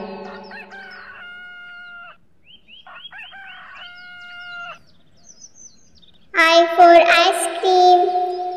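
Hens cluck in short repeated calls, then a rooster crows loudly and close near the end.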